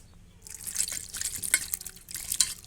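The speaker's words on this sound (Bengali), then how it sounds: "এবার আমি জল দিয়ে ধুয়ে নেব।" Water rinsing over peeled beetroot pieces, a short bright splashing and trickling that starts after a brief quiet moment and carries on with small irregular splashes.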